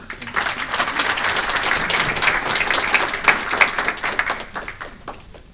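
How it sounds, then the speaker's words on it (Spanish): Sustained applause from a conference audience, steady and fairly loud throughout, with many hands clapping at once and no voices standing out. "el doctor Josué Pariona Pastrana, a quien vamos a recibirlo, por favor, con fuertes aplausos también."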